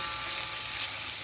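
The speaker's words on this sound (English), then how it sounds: "now the onion is sauteing" Onion sautéing in a pan with tomato and pasta over raised heat for a kurma, giving a continuous, even sizzle close by with no voices.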